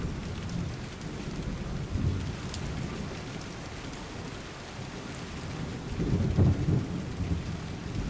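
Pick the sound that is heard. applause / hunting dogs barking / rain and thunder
rain and thunder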